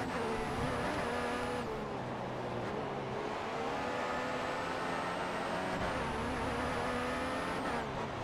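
A Formula 1 race car in an F1 racing video game, engine screaming at high revs close by, its whine climbing through gears, then dropping under braking before rising again, steady and loud with no talk.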